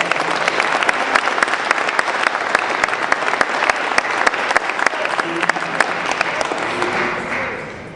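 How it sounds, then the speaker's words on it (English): An audience applauds two congressmen at a policy talk with loud, dense, continuous clapping and sharp individual claps standing out, fading slightly at the end. "We need to applaud them for their bravery."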